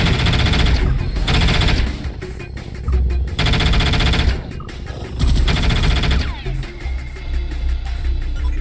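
Rapid automatic gunfire in the sci-fi shooter game Space Beast Terror Fright rattles out in dense, sustained bursts with short breaks between them.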